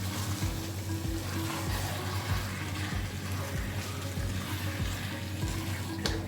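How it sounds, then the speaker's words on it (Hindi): Tomato puree being stirred into beef keema with peas in a deep pot, a steady low sizzle with regular scraping strokes of a spoon, close and continuous, no voices. "प्यूरी बना ली थी मैंने, और इसको मैं अच्छी तरह से मिक्स कर दूंगी।"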